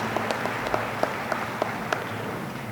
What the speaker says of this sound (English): Let's give a round of applause for all of our students and graduates from other countries.